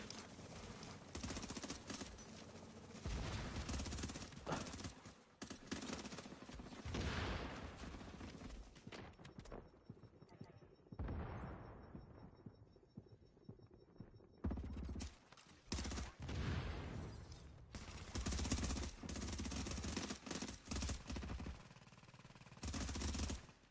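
Gunfire in the Dark Zone of The Division video game crackles in dense, rapid automatic bursts, dropping into a quieter lull midway before heavy firing resumes, all fairly faint.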